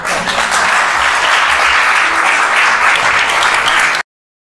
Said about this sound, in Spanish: yo creo que ya mereces el aplauso, Jesús.